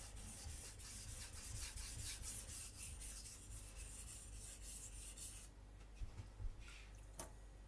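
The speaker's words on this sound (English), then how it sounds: "Just gonna flip the burr a couple of times to make sure it's uniform." A Takamura R2 gyuto kitchen knife drawn across a sharpening stone to flip the burr, making quiet rhythmic rasping strokes close by, the steady passes giving way to a few lighter scrapes.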